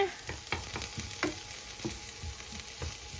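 Garlic and onion frying in a pan for sisig made from leftover lechon, a steady close sizzle broken by scraping stirs of a utensil against the pan, with no talking.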